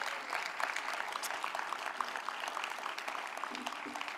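Audience applause at an awards ceremony for a film and animation festival rises as a continuous wash of clapping from a seated crowd, moderately loud and steady from start to finish.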